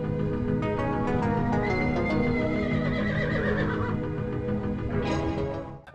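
Horses neighing loudly in a dramatic film scene, whinnies rising and falling over a dense, continuous backdrop of sound, with a final sharp high whinny near the end.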